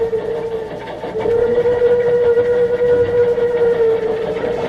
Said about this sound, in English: we could hear President whistle repeatedly